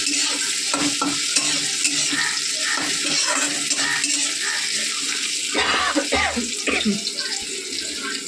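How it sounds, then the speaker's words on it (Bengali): Eggplant frying in a pan in a home kitchen, a steady broadband sizzle with stirring and scraping throughout, loud and close, with some clattering toward the end. "চলো বেগুনটা আমি ভালো করে ভেজে নিই"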